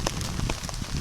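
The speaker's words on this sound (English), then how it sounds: "it started raining" Rain and sleet fall steadily on a hiking trail, a dense patter of drops striking gear and ground at close range, with no voices.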